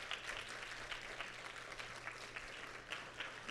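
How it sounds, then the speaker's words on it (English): A TEDx audience gives a dense, sustained round of applause for the speakers, the clapping even and moderately distant with a low hum beneath. "Let's give a round of applause for all of our speakers."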